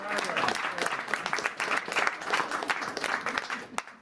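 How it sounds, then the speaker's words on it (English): An audience applauds steadily throughout, a dense continuous patter of many hands clapping at a public announcement event, moderately loud and unbroken. "yes, let's clap."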